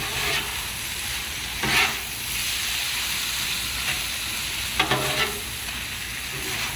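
Food fries on a Blackstone griddle under a steady loud sizzle, broken by a few bursts of scraping and tossing from a spatula as it is stir-tossed.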